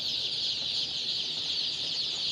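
Continuous high-pitched chirping from many young white layer chicks in a shop, steady and dense throughout with no pauses.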